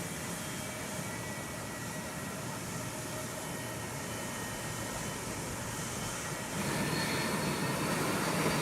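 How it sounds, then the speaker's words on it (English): McDonnell Douglas MD-80 jet engines run in full reverse thrust to back the airliner out of a parking stand, producing a steady, broad roar that grows louder toward the end. "Astro Air McDonnell Douglas MD-80 applies full reverse thrust to back out of its parking stand."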